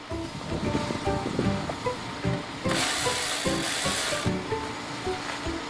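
A 10mm socket ratchet working on the negative battery terminal of a 2008 BMW X3 gives loud, close, rapid pawl clicking in bursts, with a harsher noisy stretch in the middle.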